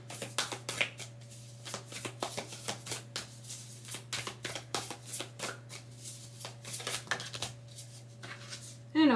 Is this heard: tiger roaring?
no